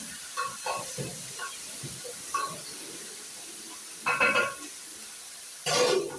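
Potatoes and onions frying in oil for mukimo give a faint, steady sizzle, with a few louder bursts of hissing and stirring near the end.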